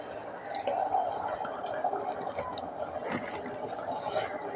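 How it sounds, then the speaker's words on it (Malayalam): Milk pours into a pot already holding sugar in a home kitchen, giving a soft, continuous liquid splashing and gurgling that stays fairly quiet and close throughout. "ഇനി നമുക്ക് ഇതിലോട്ട് പാലൊഴിക്കണം"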